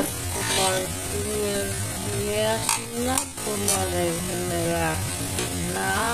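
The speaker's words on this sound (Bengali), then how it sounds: "মশলাটা আমি 2 বা 3 বার একটু একটু জল দিয়ে কষিয়ে নেব।" A spice paste for chicken bhorta being fried and stirred in a pan with splashes of water, giving a loud continuous sizzle with a buzzing, wavering tone and occasional scraping stirs up close.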